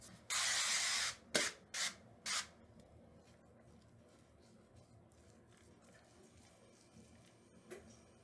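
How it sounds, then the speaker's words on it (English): Avocado oil spray greases a baking dish: one long hissing spray followed by three shorter puffs up close, then quiet with faint handling noise and one small later spritz. "I just like using this avocado spray."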